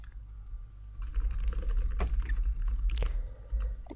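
A card number being typed on a computer keyboard: a few close, crisp key clicks, sometimes grouped, over a low room rumble with no speech.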